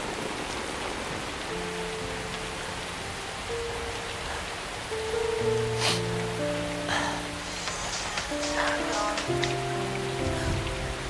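Steady rain falls, a constant close hiss of drops on surfaces, with sustained musical tones laid over it and no talking.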